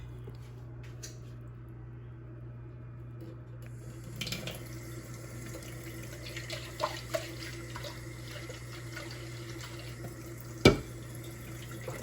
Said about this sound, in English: I'm going to add like 1/2 cup of water.